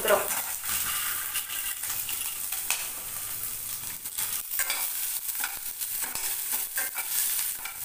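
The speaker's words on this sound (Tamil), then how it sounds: "இத போட்டு நல்லா வதக்கிட்டு இப்ப செவந்து வர நேரத்துல வெங்காயமும் நம்ம போட்டுக்குறோம்" Cumin seeds and onions sautéing in a pan for pirandai chutney, a dense crackling sizzle throughout with occasional scrapes and clinks of a spoon against the pan, heard up close.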